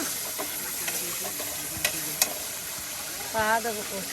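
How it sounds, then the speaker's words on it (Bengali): Papaya pieces being sautéed with spices in a pan at an outdoor riverside cooking spot, a faint steady sizzle with occasional scraping stirs, plus a short louder burst near the end. "পেঁপের টুকরাও কিন্তু মশলার সাথে সুন্দর করে আপনার কষিয়ে নেওয়া হচ্ছে"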